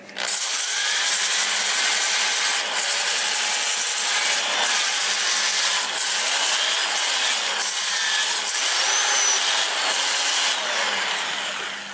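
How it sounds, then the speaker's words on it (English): A black walnut piece spinning on a wood lathe at about 320 RPM in reverse is sanded with 80 grit paper, giving a steady, loud, close abrasive hiss with brief pauses as the paper is lifted and reapplied. "So now I'll run it in reverse. We're doing about 320 RPM, 80 grit."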